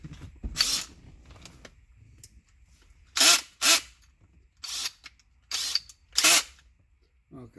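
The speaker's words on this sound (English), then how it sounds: "chuck up a 1/4 inch extension with a 7mm socket and run it down with the drill" A power drill with a 1/4 inch extension and 7mm socket runs down bolts while installing a Steeda Tri-Ax short throw shifter in a '94–'04 Ford Mustang GT, in five or six short whirring bursts separated by quiet pauses.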